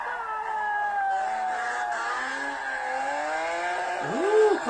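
A Group B rally car races past, its engine note sweeping and shifting in pitch as it accelerates, loud and close, ending in a rising and falling swoop as it passes.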